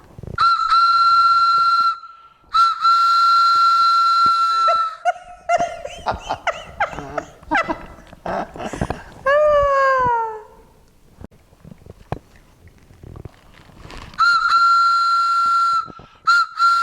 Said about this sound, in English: It's a strange whistle.